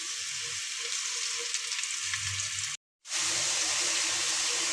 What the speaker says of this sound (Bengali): এখন শাকটা আমি ভাজি করব।